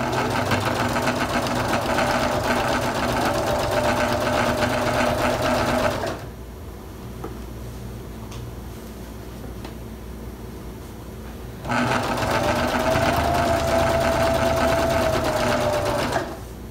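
Sewing machine stitching through a bulky quilted rick rack table runner, running loud and close for about six seconds, pausing to a low hum, then running again for about five seconds.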